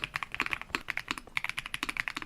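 Mechanical keyboard fitted with Jade Blossom switches, typed on in a quick run of close, crisp, non-clicky thocking keystrokes with no voices.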